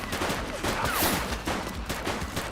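Rapid gunfire crackles in the police game The Precinct, dense overlapping bursts of shots packed close together, loud and continuous with no talking.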